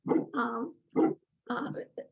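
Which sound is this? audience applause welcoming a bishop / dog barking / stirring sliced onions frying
dog barking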